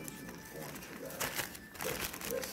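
A small plastic bag crinkles as marshmallows are put into it, with two short bursts of crackling rustle rising over a quiet indoor background.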